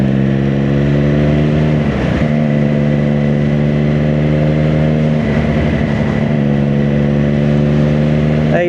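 A 2024 Triumph Daytona 660 motorcycle engine runs steadily and loudly up close, its even drone dipping briefly around one quick rev before settling back to a constant tone.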